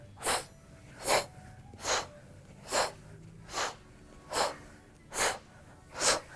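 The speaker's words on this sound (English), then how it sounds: "Let's add a little bit of a breath of fire to it." Breath of fire breathing exercise: eight sharp, forceful nasal exhalations in an even rhythm, each a loud close burst of breath with quiet gaps between.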